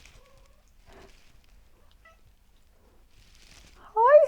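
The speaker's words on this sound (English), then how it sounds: "She just did a little chirp. Like that, one of those cat chirps." A domestic cat gives one short, bright chirping trill close by, right at the end, after near silence with faint background murmurs.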